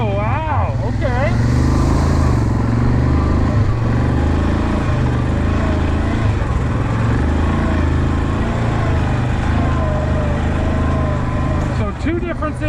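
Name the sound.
Yamaha Kodiak 700 ATV engine accelerating while riding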